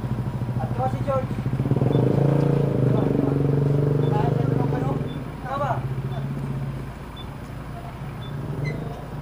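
A Yamaha Aerox scooter engine with an open exhaust pipe rumbles loudly nearby, revving and idling unevenly, with people talking over it.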